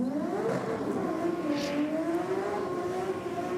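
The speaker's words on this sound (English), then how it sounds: "that beautiful sound of an RB motor in the R33" A Nissan Skyline R33 race car's RB engine revs and holds a high, sweeping whine, the pitch climbing, dipping and rising again, loud and continuous.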